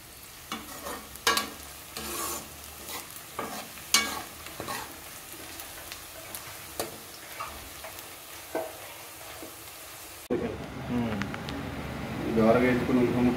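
Onion slices frying in oil for chicken biryani, a steady sizzle broken by repeated scraping stirs, with a louder, busier sizzle in the last few seconds.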